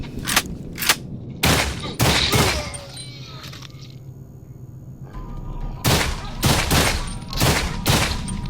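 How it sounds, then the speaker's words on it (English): A tactical rifle in the video game Audio Defense fires sharp, punchy shots in quick clusters, with a quieter gap mid-clip before another rapid run of loud reports. "Tactical rifle."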